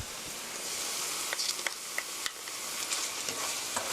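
Sesame oil being stirred into soy sauce chicken in a frying pan: continuous sizzling with a run of sharp utensil scrapes and taps near the middle, close and moderately loud, no talking.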